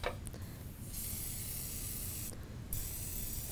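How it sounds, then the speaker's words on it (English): A pump spray bottle mists canola oil into a pan in a steady, close hiss that runs for a few seconds, briefly cut off and then resumed, with no talking. "And then we're going to go ahead and just spray our pan."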